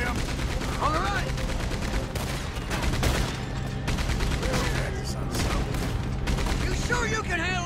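Rapid gunfire crackles through a Red Dead Redemption 2 train chase, bursts of shots from pursuing riders layered over rumbling motion, with people shouting and talking throughout.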